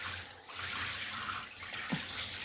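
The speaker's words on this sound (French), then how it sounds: "maintenant, on prend un bain douche" Water runs steadily from a shower into a bathtub during a baby's bath, a continuous hiss with a small splash near the end.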